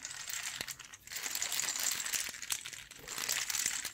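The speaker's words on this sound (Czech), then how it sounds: "Já jdu zalepit jeden konec a pak si zkusím, jak ten hrách bude znít." Dried peas trickle through a homemade rain stick with one end taped shut, giving a faint, continuous pattering rattle with small clicks, in waves of close, dry tapping and no voices.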